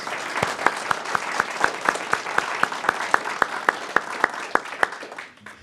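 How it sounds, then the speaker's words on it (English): An audience applauds award recipients at a school board meeting, a steady round of clapping that sounds full and close before tapering off at the end. "And one more round of applause for these award recipients, please."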